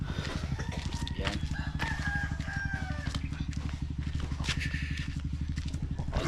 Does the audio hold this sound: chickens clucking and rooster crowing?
yes